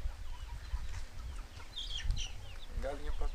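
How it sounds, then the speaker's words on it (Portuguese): Chickens cluck on a small farm where about two hundred birds roam alongside ducks, geese and turkeys, soft scattered clucks and calls mixed with outdoor noise and a brief voice. "Galinha pra todo lado aí."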